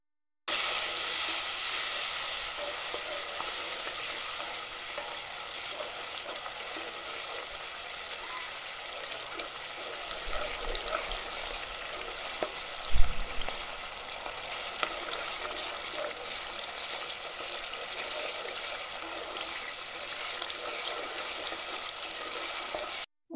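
A spice paste of turmeric, chili, coriander and cumin powders fries with a little water for a duck curry, giving a continuous close sizzle and hiss with faint stirring and one brief knock.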